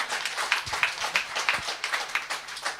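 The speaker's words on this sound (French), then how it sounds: "j'aimerais t'accueillir avec les applaudissements" Applause from a church congregation welcoming a guest speaker, a faint, steady patter of many hands clapping at a distance in a reverberant hall, continuing evenly throughout.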